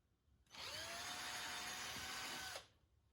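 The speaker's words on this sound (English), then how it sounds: "makes it easier to drill a hole in this thing" A power drill boring a hole in a kayak whirs up sharply, runs at a steady high-pitched whine for about two seconds, then stops, heard close and alone.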